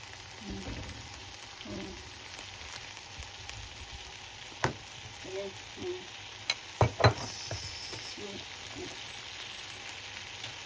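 Pork and chicken barbecue sizzle steadily on a grill pan, a continuous close crackle with a few sharper pops and utensil clicks partway through.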